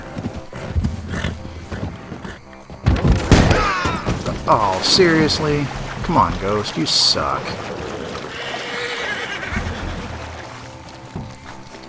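Horse hooves and a whinny from a horse in Red Dead Redemption 2, with clip-clop steps and an animal cry in the middle, heard among game sounds while someone talks over them in frustration.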